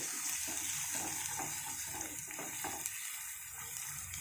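A small amount of water is poured into frying masala for Bengali-style katla fish kalia, a soft, steady splashing trickle that runs faintly for a few seconds.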